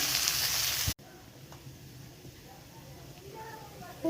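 Onion and tomato hit hot oil with curry leaves, garlic and green chili, making a loud sizzling hiss for about a second. The pan then drops to a faint, quiet sizzle while a person talks.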